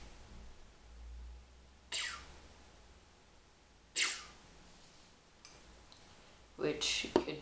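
Three breathy, whooshing bursts made by mouth, each a short descending hiss, separated by quiet pauses; a voice imitates a laser zap.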